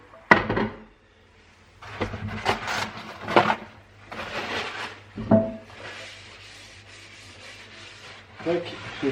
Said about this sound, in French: Je vais juste essuyer un peu la poêle.